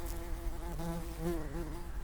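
Recorded bee buzzing steadily with a wavering, harmonic-rich drone, close and fairly loud, rising and bending slightly in pitch throughout, with no voices.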